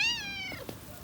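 A single drawn-out cat meow, fairly close and clear, followed by a couple of softer short mews against quiet background.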